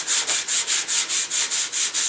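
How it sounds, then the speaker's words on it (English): Glider flap material, heavier than expected, being sanded aggressively by hand, giving about nine steady rhythmic rasping strokes, close and loud with no talking. "you're going to want to sand it down fairly aggressively."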